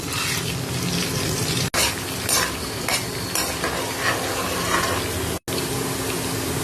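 Peanuts and urad dal sizzling in hot oil, a steady close frying hiss with stirring scrapes and clinks throughout, no voices.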